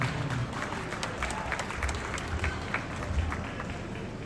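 Steady applause from an audience at a Cerebral Palsy Day celebration in Valanchery, dense continuous clapping throughout at moderate volume.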